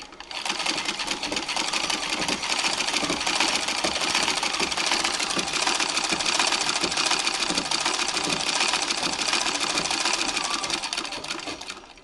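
A treadle sewing machine driven by a spring coil belt runs steadily for about twelve seconds, a fast, even mechanical whir and clatter close by with no talking.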